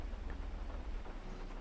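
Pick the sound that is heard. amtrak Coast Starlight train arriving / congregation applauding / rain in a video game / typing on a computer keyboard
rain in a video game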